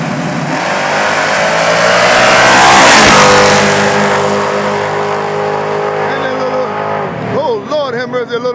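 Small-block G-body and Mustang drag racing side by side, loud roaring engines building to a pass-by peak then fading, with an excited announcer talking over the cars toward the end.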